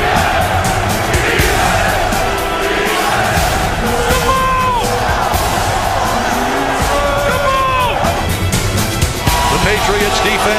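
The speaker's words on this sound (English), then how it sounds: "the crowd roared back to life" A stadium crowd roars continuously at Gillette Stadium during a 2003 Patriots football game. The dense, loud crowd noise runs unbroken throughout, with a commentator's voice talking over it.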